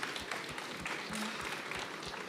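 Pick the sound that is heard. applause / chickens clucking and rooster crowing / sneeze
applause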